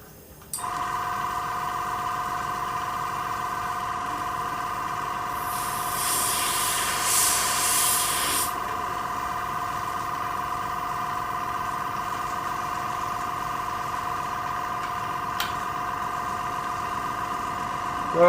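A steady mechanical hum runs throughout, with a brief hissing spray burst of a few seconds as water is sprayed through an airbrush partway through.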